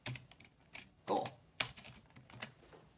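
Close, quiet keystrokes on a computer keyboard in short irregular bursts, with a few louder clacks and faint background voice.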